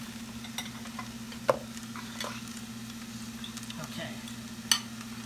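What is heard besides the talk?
scrambled eggs frying and stirred in a large pot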